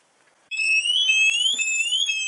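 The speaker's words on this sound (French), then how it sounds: "Voilà, l'alarme est déclenchée." A Bosch Spexor mobile alarm sounds inside a camper van, starting abruptly after a short quiet moment and holding as a loud, piercing electronic warble with sweeping tones, accompanied by a few faint clicks.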